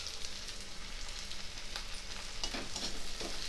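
Ground spice paste of ginger, black pepper and cumin with chili, turmeric, meat masala and coriander powder sizzles and crackles steadily in a hot pan, with stirring scrapes now and then, close and continuous.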